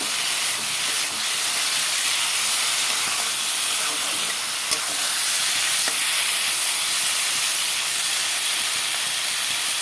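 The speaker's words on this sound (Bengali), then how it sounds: "খাসির মাংসটাকে মশলা দিয়ে একসাথে মিশিয়ে নিলাম" Mutton mixed with spices fries in a pan, giving a loud, continuous steamy hiss and sizzle with faint stirring ticks throughout.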